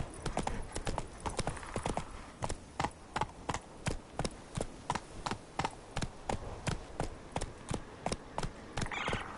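Horse galloping in The Witcher 3, a long, regular train of sharp hoofbeats close and steady throughout, with a brief snort or whinny near the end.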